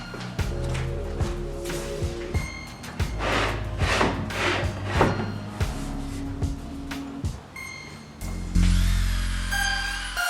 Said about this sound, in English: sanding is done. It's nice and smooth.